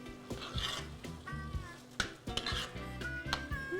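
A spoon stirs cornbread hushpuppy dressing with vegetables in a pot, giving steady scraping and rubbing with occasional clinks against the pot, close and moderately loud.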